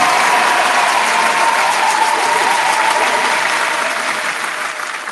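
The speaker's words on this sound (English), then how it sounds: "Round of applause for that." Studio or audience applause on a mixshow episode, dense, continuous clapping that holds loud and steady before easing off slightly toward the end.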